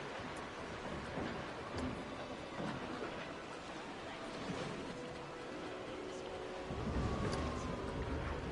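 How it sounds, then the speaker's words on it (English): Faint, distant train rumbling and clacking along rails in the Planet Coaster video game, a quiet continuous rolling noise with a brief swell near the end, no talking. "You can still hear that train from all the way over here"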